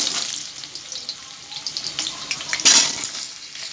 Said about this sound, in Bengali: তেল গরম হয়ে গেছে, দিয়ে দেবো আলুগুলো।